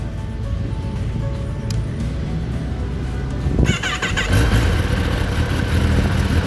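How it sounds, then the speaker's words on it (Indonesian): A Kawasaki ZX-10R sport motorcycle engine idles as a steady low rumble, then roughly midway it surges louder with a sharp blip of revving and keeps running at a higher, rougher level, close by with no talking. "suara dari Kawasaki ZX10R"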